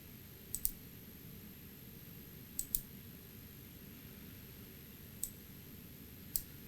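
Computer mouse clicks while working in Simscape Electrical power-system software, a few sharp close clicks, some as quick double clicks, spaced over several seconds against quiet room hiss.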